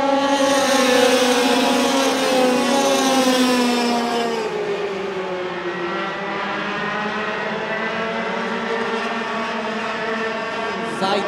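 IAME X30 racing karts at the SL Mizunami series race, several high-pitched two-stroke engines droning loudly together as they pass close by on track, pitch shifting as the pack goes through, with faint commentary underneath.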